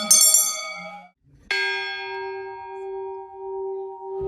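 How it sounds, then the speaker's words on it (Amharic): An Ethiopian Orthodox church bell in Shewa rings two clear metallic strikes. The first fades quickly, and the second hums on with a long, sustained ring. "የቤተ ክርስቲያን ደውል ድምፅ ከሩቅ ይሰማል።"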